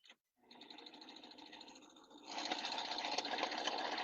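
A domestic sewing machine stitches a thread chain. After a brief click and a pause, a steady, close mechanical whirring starts, then runs faster and louder for the last couple of seconds.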